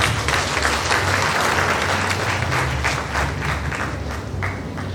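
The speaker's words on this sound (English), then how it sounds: "A round of applause for them." A pharmacy induction and oath-taking crowd applauds its 80 graduates, a full steady clapping roar from a large hall that thins slightly toward the end, with a low hum beneath.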